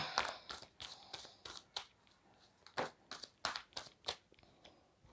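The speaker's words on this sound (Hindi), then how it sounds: "थोड़ा सा ऊपर कर रही हूँ शिफ्ट कार्ड्स को ताकि सारे कार्ड्स आपको विजिबल रहें।" Oracle cards are shifted by hand on a table, with a quick series of close, crisp rustles and papery snaps, some sharper than others, and no speech.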